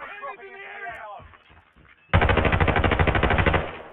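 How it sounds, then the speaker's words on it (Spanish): Rapid bursts of automatic gunfire in the video game Warzone, a sustained loud volley of close shots following a stretch of excited talk. "mi compañero está disparando"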